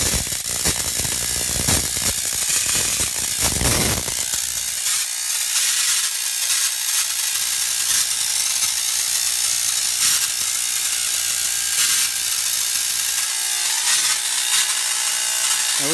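A Tesla hairpin circuit switched on and running, a loud buzzing, crackling hum that stays steady and close throughout after a rougher burst at the start.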